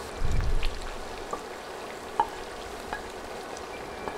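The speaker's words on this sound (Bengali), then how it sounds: "কিছু রসুন কুচি, আর দিচ্ছি কিছু পেঁয়াজ কুচি। এবার নেড়ে এগুলো বাদামি করে ভেজে নিব" Chopped garlic and onion frying in a pan, a steady close sizzle with a brief louder stir near the start and a few light clicks of a utensil afterward.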